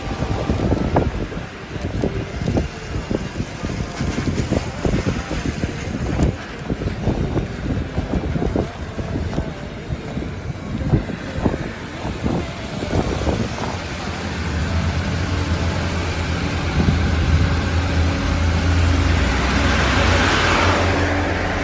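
A car climbs steadily along winding mountain roads, its engine a continuous close drone mixed with gusty wind buffeting the microphone, the load easing slightly toward the end.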